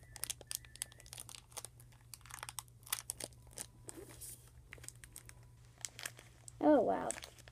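A Shopkins Season 3 blind bag is handled with soft, scattered plastic crinkles, ending in a sharp, louder tearing burst as the package is ripped open, close to the mic.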